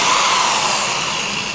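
A power drill countersinks a shallow hole in wood on a table for a handmade wooden pen, a brief, loud, steady high whir that eases slightly toward the end.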